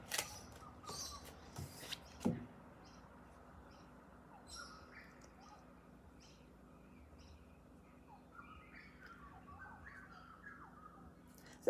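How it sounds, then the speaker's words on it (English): Birds chirp and call outdoors, with a few short tweets scattered across a soft, steady background murmur, faint and fairly distant, with a couple of louder knocks near the start. "I'm outside today, so there probably is some bird noise and car noise."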